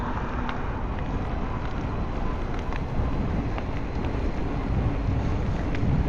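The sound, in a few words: wind while riding a bike on a trail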